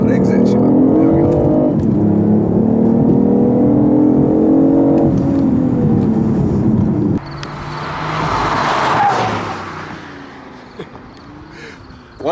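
A fast hybrid car accelerates hard on a race track with a loud, rising engine and motor whine held close up. The pitch climbs and steps at shifts, then drops to a quieter whoosh as a voice talks over it.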